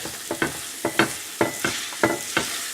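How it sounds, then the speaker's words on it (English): A thick fig and date mixture cooks in ghee over a medium flame, giving a soft continuous sizzle broken by regular scraping strokes of stirring, about two or three per second, close and steady. "we cook it on medium flame in the ghee until this mixture becomes pliable enough"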